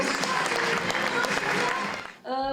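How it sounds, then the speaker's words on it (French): Dense audience applause at a charity fashion show where garments made from donated clothing are presented, a steady wash of many hands clapping that fades near the end as a voice begins speaking. "Et applaudissements pour Christelle."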